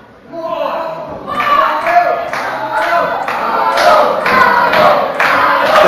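A wrestling crowd at a DCW show cheers and claps for Myles Hawkins, a loud, sustained roar with rhythmic clapping beats rising and falling, and a commentator talking over it.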